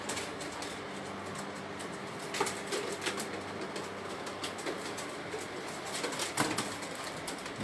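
Breeder's pigeons on a rooftop loft, a steady busy wash of soft cooing and rustling with occasional brief wing flaps, moderately distant and continuous throughout.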